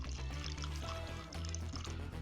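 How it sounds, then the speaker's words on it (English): Captain Morgan rum poured into a glass with ice, a soft quiet trickle of liquid sitting under a bed of louder tonal background music. "We're going to listen to that pour into the glass."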